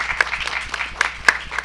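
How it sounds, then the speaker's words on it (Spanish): Audience of third- and fourth-year students from Colegio San Carlos de Aragón clapping together, a brief burst of dense, even applause filling the room with a few sharper claps standing out. "Un aplauso para ustedes mismos"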